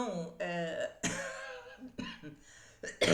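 An adult woman with an allergic cough gives several short, rough coughs and throat clears in close succession, spaced by brief pauses, heard up close.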